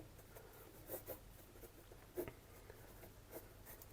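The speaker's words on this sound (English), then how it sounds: "So I'm just making a very quick sketch." Pencil sketching a quick building drawing on paper, a run of faint, light scratchy strokes with a few slightly firmer marks, close and quiet, with no talking.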